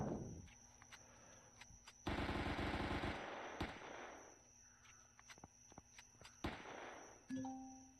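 Weapon fire in the video game Empyrion Galactic Survival: a loud, rapid automatic burst in the middle, then scattered single sharp shots with quieter ambient game noise between.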